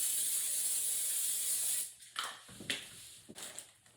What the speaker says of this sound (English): I have some olive oil spray that I'm going to spray on the bottom of the pan